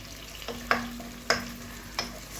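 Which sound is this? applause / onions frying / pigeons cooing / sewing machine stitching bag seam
onions frying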